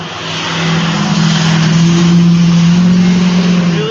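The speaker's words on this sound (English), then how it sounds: "Loud, annoying truck." A loud truck engine drones past close by, rising and holding a steady low hum with a higher whine, no voices.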